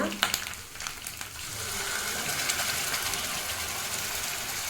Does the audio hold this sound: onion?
yes